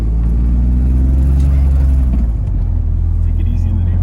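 BMW E36 M3 driving slowly around a neighborhood block: a steady, loud low engine rumble that eases partway through, with road noise under it and no clear revving.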